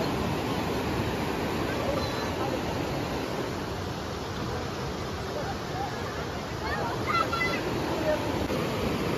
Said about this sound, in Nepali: यत्रो भला छ हाम्रो मान्छेहरू हेर्दै बसेका छन्